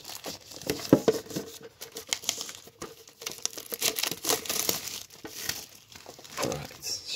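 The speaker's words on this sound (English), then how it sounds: "I just ripped the plastic bit off there" Tight plastic wrap is torn and crumpled off a Pokémon Rotom V collector tin, close and crackly, in a run of irregular crinkling bursts and rips lasting several seconds.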